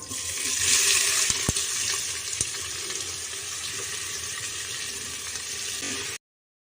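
Onion hitting hot oil with cumin in a kadhai sizzles loudly and steadily, a bright hiss that swells early and then settles into a continuous frying crackle until it cuts off abruptly.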